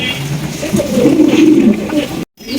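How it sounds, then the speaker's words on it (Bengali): A pair of Afsan Beauty pigeons coo in low, throaty, rolling murmurs, close and fairly loud for about two seconds before a brief dropout. "সুপার কোয়ালিটির এক জোড়া আফসান বিউটি কবুতর"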